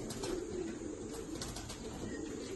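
Malwai pigeons coo softly in a loft, a faint continuous murmur of low cooing over steady background noise with occasional light chirps.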